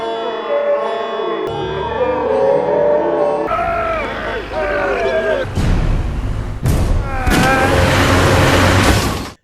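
A modified car used as a weapon in a film scene tears through a crowd of villagers, with loud engine roar, heavy thuds and impacts building into noisy, dense crashes, mixed with shouting voices throughout.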